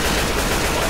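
Gunfire in the zombie shooter Left 4 Dead 2 during a horde attack: a loud, dense burst of rapid shots filling the full second with no pause.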